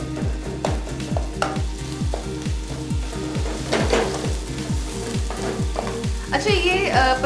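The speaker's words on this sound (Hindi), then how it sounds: "जैसे हम लोग ग्रेवी भूनते हैं ना घरों में, वैसे इसकी ग्रेवी भूनना है" Onion-ring gravy for a spicy Punjabi dish sizzles steadily in a pan while a spoon stirs it in a fast, regular scraping rhythm, with occasional clinks of utensils against the pan; the sound is close and loud.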